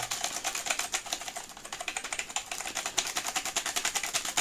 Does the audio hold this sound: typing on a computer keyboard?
yes